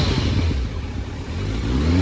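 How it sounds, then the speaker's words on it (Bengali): A motorbike engine revs up close in the morning, a steady loud mechanical drone with a rising pitch sweep toward the end, with no talk over it. "ভাই বলছে সকাল সকাল একটু সাউন্ড শোনাতে পারবে বাইকের"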